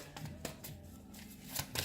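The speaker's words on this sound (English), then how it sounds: "I shuffled the hell out of them after the Pisces reading, but I'm shuffling them again." A deck of tarot cards shuffles quietly up close, with bursts of soft riffling flicks and papery slaps in an uneven rhythm, without speech.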